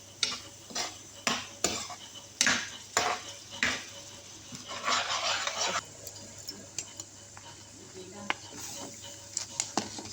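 Repeated scraping and clanking of a utensil stirring pasta in a metal pan, irregular strokes up close with a faint sizzle underneath and brief voices in between.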